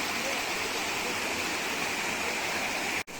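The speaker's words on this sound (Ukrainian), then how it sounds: "Вон там знаходиться верхній бухтівецький водопад" Steady roar of the upper Bukhtivets waterfall in the Carpathians, a dense continuous rush that stays loud and even throughout, then cuts off abruptly at the very end.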